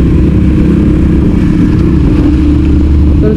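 A motorcycle engine rumbles loudly up close as a rider learns to work the clutch at low speed, a steady throaty drone with slight rises in revs and no talking.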